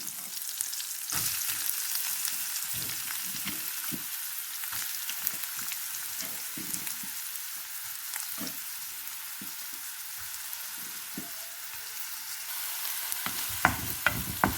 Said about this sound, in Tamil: பச்சை மிளகாய் இப்போ வெங்காயத்தை போடுவோம்